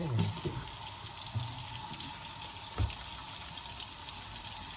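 A tap runs steadily into a sink for washing, a close, continuous rushing gush with a few soft knocks and splashes underneath.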